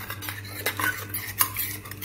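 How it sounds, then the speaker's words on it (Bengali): A spoon stirs and scrapes inside a burnt metal bowl of boiling water, making repeated irregular clinks and scratchy scrapes over a steady low hum, close and fairly loud. "এরকম চামচ দিয়ে একটু খুঁচিয়ে খুঁচিয়ে নাড়বে"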